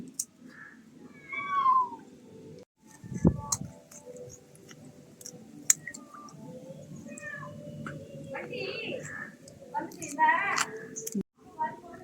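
A cat eats scraps of discarded fish outdoors, with soft chewing and clicking bites, occasional meows, and quiet voices with scattered clatter around it.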